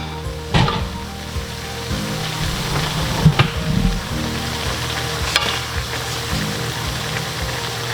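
Cooked, chopped green beans added to chicken in a hot pan, frying with a steady close sizzle and occasional stirring knocks and scrapes, no talking.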